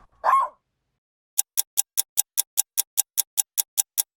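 Toy Stikbot dog sound effect: one short bark, then after a pause a quick, evenly spaced run of about fifteen sharp yaps or clicks, close and clear with no talking.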